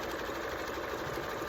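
A sewing machine stitches folded bias tape onto a fabric casserole dish cover, a steady, fast, close whirring hum with no pauses.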